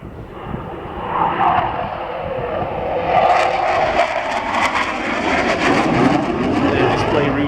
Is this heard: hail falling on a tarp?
no